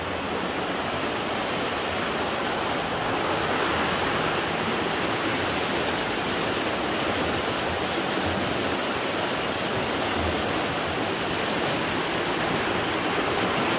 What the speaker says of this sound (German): Doch da ziemlich viel Wasser.